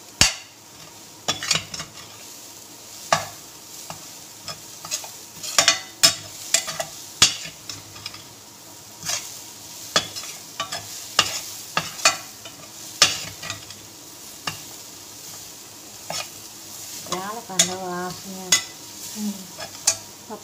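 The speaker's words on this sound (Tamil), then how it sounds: "சர்க்கரை அதில் கரையிற வரைக்கும் நல்லா வதக்கணும்." Channa dal and sugar sautéed in a pan for a sweet puttu dessert: continuous soft sizzling under repeated scraping and clinking strokes of a spoon against the pan, close and steady, with no talking.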